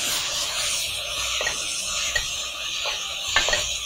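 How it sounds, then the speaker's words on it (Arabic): A spoon stirs mushrooms and spices in a pot for Mexican soup, with soft scraping strokes and a few light clinks against the pot's side under a steady background hiss. "وبرده هقلب تقليبه."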